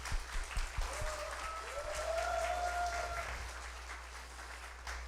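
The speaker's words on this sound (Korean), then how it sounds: "자 우리 다시 한번 우리 감사의 박수 한번 우리" Congregation claps in thanks at a Korean church revival testimony meeting, a steady moderate applause over a low hum, with tonal sounds running through part of it.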